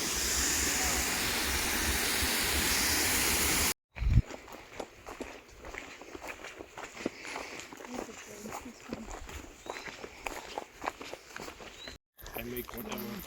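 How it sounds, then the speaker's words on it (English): A series of mountain waterfalls roars loudly and steadily for a few seconds, then cuts away to quieter footsteps on a hillside trail near a hut. "Just 1 minute up the hill from the hut is this series of waterfalls."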